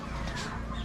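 Chickens clucking steadily over a constant low background hum, with a brief higher bird call near the end.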